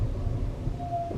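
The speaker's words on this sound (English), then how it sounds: "Oh, Ruby and her squeaky brakes." Squeaky brakes on Ruby, a Tesla, give a thin steady squeal near the end over low road and cabin rumble.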